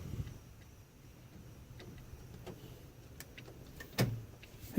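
Power door locks on a truck actuate with a couple of quick, sharp mechanical clunks against a quiet interior background, the loudest snap near the end.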